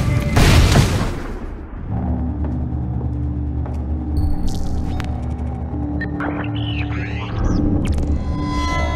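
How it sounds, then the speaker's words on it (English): A grenade explodes in the video game Splinter Cell Blacklist with a loud, close boom at the start, then a low rumbling hum and scattered tonal effects. "Grenade!"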